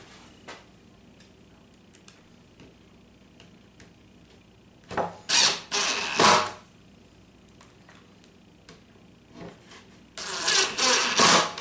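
Screws are driven into a wooden drawer box with a power driver: two short whirring bursts with a quieter pause between them, heard close in a fairly quiet workshop, with no talking.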